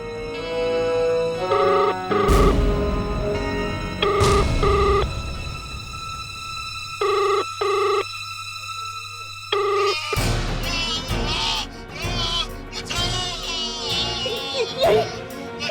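An electronic phone ringtone chimes in repeated bursts with short pauses, then loud, chaotic voices and shouting take over.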